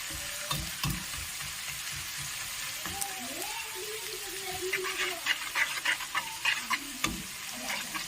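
Thin shredded potatoes deep-frying in foaming hot oil over a full flame, a steady bright sizzle with dense crackling pops that grow busier toward the end, with a faint voice briefly heard over it.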